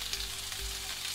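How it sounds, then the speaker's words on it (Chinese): Sliced ginger and onion fry in a little oil left in a wok, giving a steady, close sizzle with no talking. "锅中留底油，放入姜片、"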